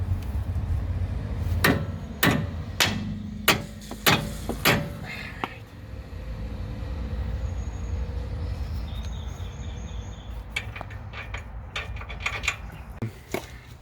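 Hammer blows knocking a sway bar link joint loose on a Dodge Cummins truck, in place of a pickle fork: a cluster of sharp metallic strikes early on, then sparser hits later over workshop background noise.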